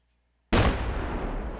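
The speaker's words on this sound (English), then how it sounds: "An atom bomb." An atom bomb goes off in a video game, a single sudden loud blast out of silence. The rumbling roar then decays slowly.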